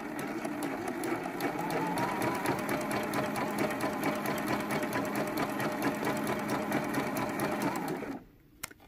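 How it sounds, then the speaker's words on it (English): A sewing machine stitches quilt fabric pieces together with a 1/4 inch seam, running in a steady, fast, loud whir for about eight seconds before stopping abruptly, with a faint click afterward. "We're going to put those right sides together and sew those with a 1/4 inch seam allowance."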